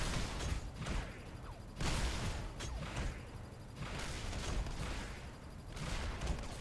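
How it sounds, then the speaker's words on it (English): An energy machine gun in the space game Stellarum fires repeated bursts of rapid shots, with a few louder volleys separated by short lulls, moderately quiet overall. "Oh, look at the energy machine gun."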